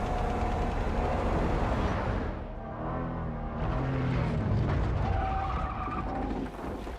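A truck in the video game Death Stranding 2 drives along with a steady engine roar, with tires skidding and scraping through loud, continuous game audio and no talk.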